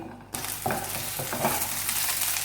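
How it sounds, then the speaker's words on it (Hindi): Vegetables hit a little hot oil and start frying, the sizzle bursting in abruptly after a brief quiet moment, then crackling steadily up close with a few stirring scrapes. "अब मैं थोड़ा सा ऑयल ले रही हूँ और इसमें थोड़ी सी इन वेजिटेबल्स को मैं फ्राई करूंगी।"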